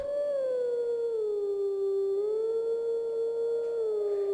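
A Howling Stone tune from The Legend of Zelda: Twilight Princess, heard in Snowpeak Province: one long, steady, wolf-like howled note that slowly dips and then rises again, loud and alone.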